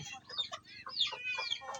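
Several chickens cluck and chatter close by in their coop, a busy, overlapping stream of soft calls with no talking.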